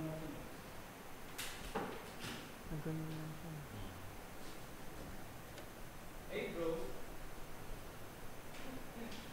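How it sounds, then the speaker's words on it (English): A smart house door with face recognition closes, heard as faint clicks and a brief sliding rustle alongside a synthetic spoken voice. "The door is closing."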